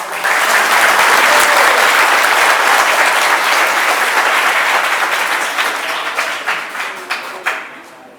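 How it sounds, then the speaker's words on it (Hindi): An audience at an ISKCON Janmashtami gathering in Udhampur claps loudly and continuously, the applause thinning into scattered single claps near the end. "इन लोगों के लिए तालियां बजा दो सब।"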